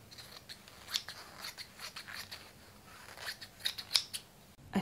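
Scissors snipping through the fabric and lining of a thrifted skirt, a series of soft close cuts and slides, quiet and steady with no voices.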